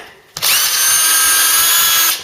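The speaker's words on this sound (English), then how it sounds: "Even that drill's starting to lose its power" Power drill with a small bit on the fast setting, cutting into a Ford Cortina Mk3 panel and starting to lose power; after a short quiet start it rises to a loud, steady whine that holds to the end.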